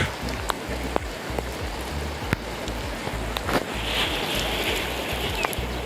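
Steady rain pours down around a village fish pond in rural Bangladesh, a dense close hiss of drops on water and ground with scattered sharper patters and splashes throughout, no voices.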